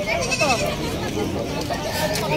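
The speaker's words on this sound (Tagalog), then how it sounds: "Kambing." Goats bleat nearby amid a noisy crowd at a pet market, with a few wavering cries standing out over people talking.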